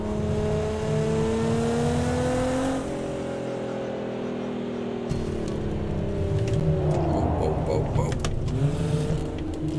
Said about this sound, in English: She downshifted from fifth to first.